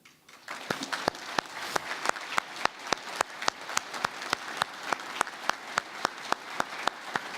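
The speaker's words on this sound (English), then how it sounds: "join me in a round of applause for all the family members, loved ones, and friends who are in the audience" Applause at a university commencement ceremony, heard as a thin, steady stream of fairly distant clapping with a few louder, evenly spaced claps from nearby hands running throughout.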